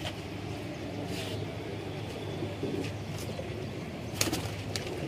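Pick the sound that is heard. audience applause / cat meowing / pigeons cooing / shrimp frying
pigeons cooing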